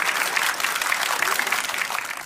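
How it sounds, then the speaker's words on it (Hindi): A studio audience at a televised political debate breaks into loud, sustained applause, dense clapping filling the whole stretch without pause. "ताली बजाइए भाई जोर से"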